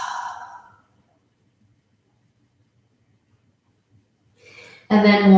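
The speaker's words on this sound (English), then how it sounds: "You can make a sounded breath here" During a gentle yoga class, a soft audible exhale trails off into near silence, and then a louder, breathy sound swells up near the end, close by.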